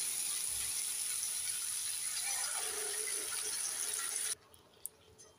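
Water pours steadily into a pan of prawn posto curry, a close continuous rushing hiss lasting about four seconds before stopping abruptly, followed by one light clink.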